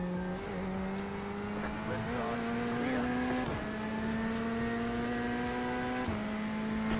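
A Corvette GT3 race car in the iRacing sim at Sebring holds a steady, droning engine note that climbs in pitch and drops at a couple of gear shifts, heard alone at low level.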